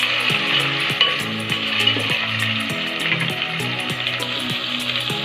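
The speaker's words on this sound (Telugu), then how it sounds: "అల్లం వెల్లుల్లి పేస్ట్, పచ్చివాసన పోయేంత వరకు వేయించుకోవాలి." Ginger garlic paste fries in a pan with a loud, steady sizzle close up, while a spoon scrapes and stirs at regular intervals and soft music plays underneath.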